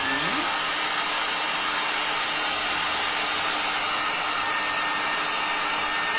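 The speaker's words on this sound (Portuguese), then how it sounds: "Deixa eu passar um secador." A hair dryer blows at steady full power over cardboard freshly coated in water-based glue, a loud continuous whoosh held close throughout with no speech.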